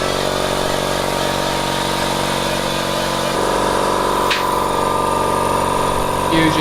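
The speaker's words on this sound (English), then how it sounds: "So you use these paint stripper wheels." Paint stripper wheel on a power tool grinding paint off an alloy wheel, a loud, steady, close motor drone with abrasive grinding that shifts slightly partway through.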